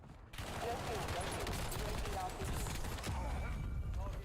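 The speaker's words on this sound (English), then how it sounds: "it's a flashbang that explodes 9 times" A flashbang in Call of Duty Warzone detonates again and again, a loud, dense string of rapid blasts and crackling bangs that runs without a break for about four seconds.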